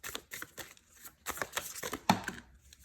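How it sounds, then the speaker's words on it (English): Tarot cards being shuffled by hand, a series of quick papery riffles and crinkly rustles in uneven bursts, close and fairly quiet. "I'm gonna shuffle again."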